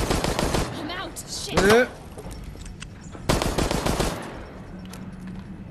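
Rapid bursts of gunfire from Resident Evil Resistance rattle in two loud volleys, with a player talking in between and over the shots.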